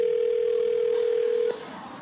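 A steady telephone tone holds at one pitch for about a second and a half during a call, then cuts off abruptly, leaving faint background hiss.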